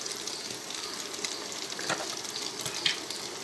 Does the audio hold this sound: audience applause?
no